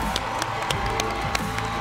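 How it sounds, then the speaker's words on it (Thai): Studio audience on a Thai TV game show claps for the assistants Maya and Chippy: a dense, loud wash of applause with some cheering that holds steady for about two seconds. "ขอเสียงปรบมือให้กับน้องเมย่าและน้องชิปปี้ครับ"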